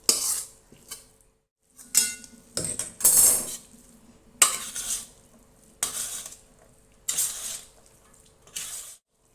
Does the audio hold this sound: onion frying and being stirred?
yes